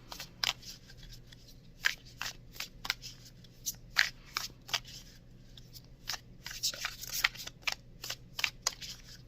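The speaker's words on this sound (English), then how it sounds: "So let's shuffle." A deck of tarot cards being shuffled by hand in a quiet room, with repeated crisp riffling bursts in irregular clusters and no talking.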